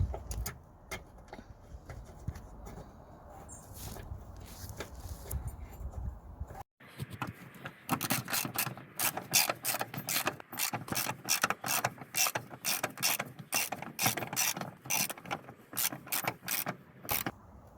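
A Toyota parking brake cable clamp is secured during a hand brake cable replacement, with close metallic clicking and rapid ratchet-like ticks in a fast rhythmic run after quieter fumbling handling noises.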